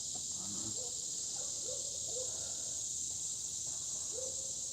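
Cicadas buzz on a morning walk, a steady, high, continuous drone heard from a distance at low volume, with a few faint bird chirps scattered beneath it.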